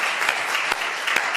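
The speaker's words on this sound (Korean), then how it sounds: "우리 박수 환영하겠습니다." A church congregation claps in welcome for returning members during a Sunday service, a steady, dense wash of applause from many hands with a few sharper individual claps standing out.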